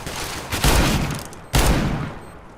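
Revolver gunfire in the video game CS:GO, two loud booming shots about a second apart, each with a lingering decay, and no talking.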